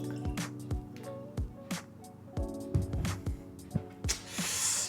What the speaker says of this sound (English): Let's first pour ourselves a much needed dram.